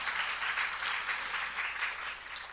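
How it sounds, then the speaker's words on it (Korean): A church congregation applauds during a special early-morning family revival service, a steady dense wash of clapping that holds evenly for the whole stretch with no voices on top. "우리 하나님께 영광의 박수 올려드리겠습니다"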